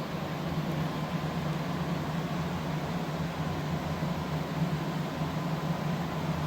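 A Garvee 14,000 BTU portable air conditioner's compressor runs indoors in a basement, giving a steady, even low hum with broad airy hiss, constant and unbroken with no talking.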